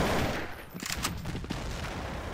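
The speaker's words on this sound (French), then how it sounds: "on va lui lancer une petite flash, une deuxième petite flash, et une petite grenade" Gunfire and grenade blasts in the game Counter-Strike: Source, with a loud rumbling explosion at first, then a burst of rapid close shots amid dense, noisy in-game action.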